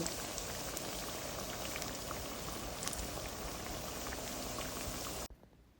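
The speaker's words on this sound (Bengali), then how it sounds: "এই যে এখন ভেজে নিচ্ছি পেঁয়াজু এই যে এভাবে আরও এক ব্যাস করে নেব" Piyaju, Bangladeshi onion fritters, fry in oil with a dense, even, bubbling sizzle that runs steadily and then cuts off abruptly near the end.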